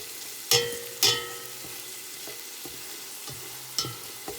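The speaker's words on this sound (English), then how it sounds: "And the garlic will just saute for about a minute, minute and a half" Garlic cooking in a pot for a gravy, a soft low sizzle with a few crisp knocks and scrapes of a stirring spoon, close by and moderately quiet, no voices.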